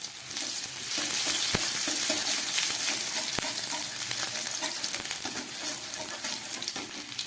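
Chopped garlic and long-cut ginger hit hot oil in a pan and sizzle loudly and steadily throughout, with a couple of sharp crackling pops and no voices.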